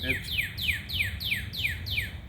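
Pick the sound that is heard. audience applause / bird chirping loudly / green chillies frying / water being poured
bird chirping loudly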